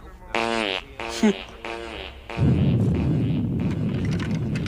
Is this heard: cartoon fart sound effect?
yes